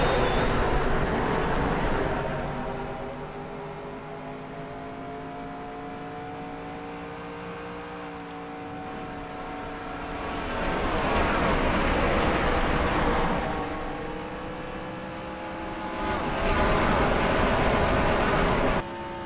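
A field of NASCAR Sprint Cup cars in the NR2003 racing sim roaring toward the green flag at Lowe's Motor Speedway, engines droning with rising and falling revs that swell loudly as packs pass, steady under a constant whine.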